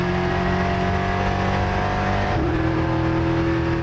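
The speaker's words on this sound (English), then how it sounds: "you can still feel the sound of the engine without clipping" Onboard EuroNASCAR race car engine at Brands Hatch, a loud continuous roar with strong low harmonics and a slight shift in pitch midway, heard close from inside the car without any voices.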